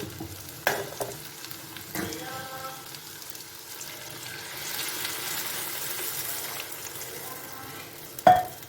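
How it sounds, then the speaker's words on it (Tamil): Tamarind water poured into a frying pan for a South Indian kuzhambu, then stirred, with a soft sizzle and liquid splashing, a few sharp clinks of a utensil against the pan, and no talk. "இப்போ நம்ம இதில் வந்து கரைச்சி வச்சுருக்கிற புளி தண்ணியை ஊற்றிக்கலாம்."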